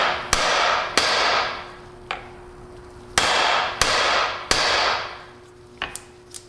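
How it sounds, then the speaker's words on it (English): Hammer blows knock a U-joint cap loose from a Toyota Tacoma drive shaft, six sharp metallic strikes with ringing decay spaced unevenly, close and loud, with a couple of lighter taps near the end. "And you can see our cap's already starting to rise here. I'm not even having to hit it very hard."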